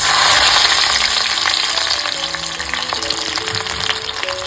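Green chillies fry in an iron kadhai over a wood-fired stove with a dense, close crackling sizzle throughout, steady and loud with faint stirring underneath.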